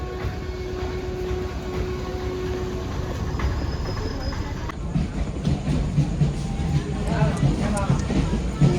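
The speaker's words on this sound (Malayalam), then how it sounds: "കുറ്റിപ്പുറം റെയിൽവേ സ്റ്റേഷനാണ് ഗൈസ്" A train rumbles and clatters at Kuttippuram railway station in Kerala alongside constant insect chirping, with people talking nearby and the rail noise growing toward the end.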